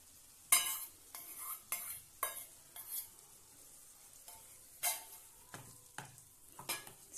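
A spoon stirs yogurt into sizzling Amritsari chicken masala in a pan, making a series of sharp scraping strokes at an uneven rhythm over a faint, steady sizzle.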